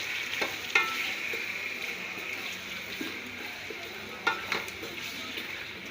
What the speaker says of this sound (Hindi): अदरक लहसुन का पेस्ट डाल देंगे। इसको भूनेंगे अच्छी तरीके से, सारी चीज़ों को मिक्स करेंगे।